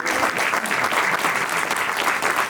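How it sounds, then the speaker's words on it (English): An audience bursts into dense, loud applause, a continuous wash of many hands clapping close by with no speech over it. "So I definitely want to give y'all a round of applause for that."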